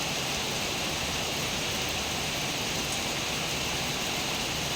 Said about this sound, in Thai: บรรยากาศฝนตกยามเช้าครับ